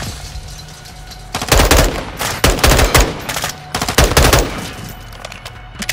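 Gunfire in Call of Duty: Modern Warfare II, loud bursts of rapid automatic shots in three or four clusters separated by brief pauses, close and punchy over low ambient game background.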